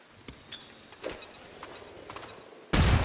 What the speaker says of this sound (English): now she's going to throw the flashbang